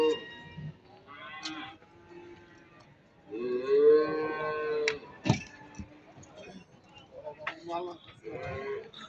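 Cattle lowing at a busy livestock market in Barda, several drawn-out moos and bleats rising near and far between bursts of trader chatter and clatter.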